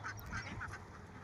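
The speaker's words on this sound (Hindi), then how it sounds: "ये पूरा बत्तख के फार्म छे जे नेपाल में छे।" Ducks on a duck farm in Nepal quack in a quick cluster of short calls, fairly faint over a low background rumble outdoors.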